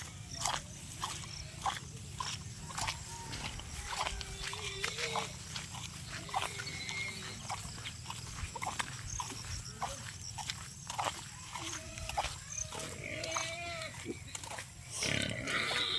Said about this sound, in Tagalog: Gutom na ang baboy.